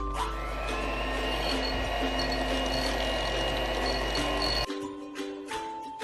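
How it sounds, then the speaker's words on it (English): An electric hand mixer whisks cream cheese in a bowl, a loud steady motor whine with rattling beaters that cuts off abruptly near the end, leaving a few faint clinks. "Now let's quickly whisk our cream cheese."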